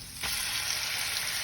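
Shrimp dropped into hot herb garlic butter, a sudden bright sizzle that starts a moment in and stays loud and steady to the end.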